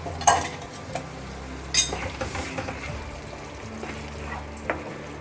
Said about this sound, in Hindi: इसे अच्छे से मिक्स कर देंगे।